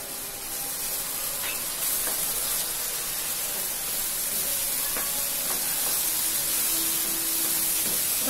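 Onion paste, dried chilli, cumin and coriander powder fry in a pan with a steady, close hiss and sizzle, broken by faint scraping stirs, with no talking.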